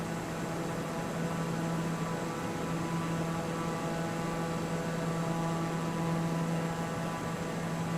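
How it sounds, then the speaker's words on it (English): Steady, smooth drone of a light airplane's engine cruising at about a third of power, a constant hum with a strong low tone and a broad hiss, unbroken and even, with no talking. "this plane's running pretty smooth"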